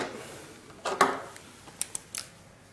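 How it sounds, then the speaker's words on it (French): Scissors snip through flat heat-shrink tubing in a few sharp, close clicks and cuts, with quiet pauses between the short bursts and no talking. "avec ciseaux ou une pince coupante cette gaine thermo-rétractable plate"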